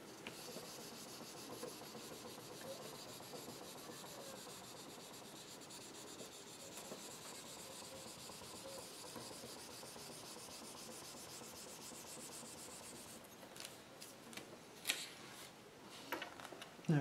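Excess paper being rubbed off an image transfer, a soft, continuous scratchy rubbing close by, growing more uneven and scuffing toward the end, with no talk.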